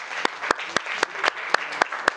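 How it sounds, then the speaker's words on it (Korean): A crowd at a Korean fan event claps in a strong unison rhythm of sharp beats about four per second, loud and close, with murmuring voices between the claps. "박수."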